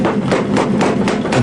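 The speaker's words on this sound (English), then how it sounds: "I'll use a power hammer made back in the late 20s." A power hammer built in the late 1920s pounds hot folded steel, its heavy rapid blows repeating about every quarter second, loud and close.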